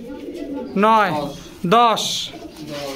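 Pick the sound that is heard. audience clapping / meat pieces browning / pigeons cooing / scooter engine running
pigeons cooing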